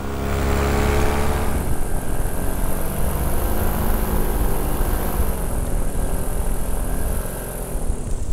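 An ultralight trike aircraft comes in to land, its engine and propeller droning loudly and steadily throughout with a broad rushing roar and no voices.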